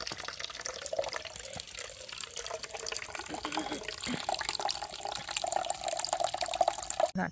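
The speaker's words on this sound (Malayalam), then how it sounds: "ഇതിൽ ഞാൻ വെള്ളം ഒഴിക്കുക" Water poured over a little salt in a container, meant for killing snails on orchid seedlings; a steady, close liquid splash and trickle runs throughout at moderate level, with faint background noise.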